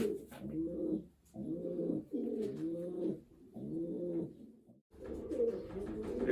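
Racing pigeons cooing in a loft, a series of soft, rhythmic, throaty coos repeating close by with short pauses between phrases.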